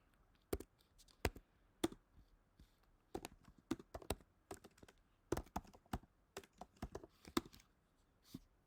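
Typing code on a computer keyboard: irregular bursts of crisp key clicks and taps, fairly close and quiet, with short pauses between runs of keystrokes.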